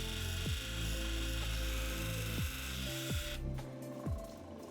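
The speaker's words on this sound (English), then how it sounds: "I'm going to begin to start shaping the opal now and rounding off the sharp corners." An opal being shaped and its corners rounded on a 400 grit grinding wheel, a steady close whirring grind with a few light scraping touches, before the sound thins out near the end.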